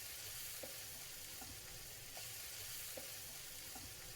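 Eggs being gently folded into anda tikka masala in a pan, a steady soft sizzle and bubbling with faint periodic stirring clicks throughout, no voices.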